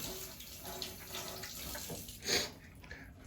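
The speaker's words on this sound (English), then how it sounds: "rinse off my hand here" Running tap water splashes over a hand being rinsed at a kitchen sink, a steady close hiss with a brief louder gush midway, no talking.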